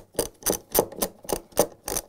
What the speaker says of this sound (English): tighten those bolts using the 10 millimeter socket wrench